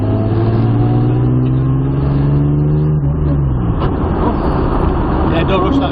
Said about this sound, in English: so squeeze that throttle back in again.